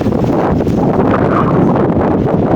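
Strong wind gusts buffet the microphone beside the Devynakiai carp fishing pond, a loud, steady, rumbling roar with no clear breaks.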